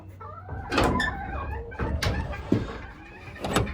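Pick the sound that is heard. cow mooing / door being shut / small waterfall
door being shut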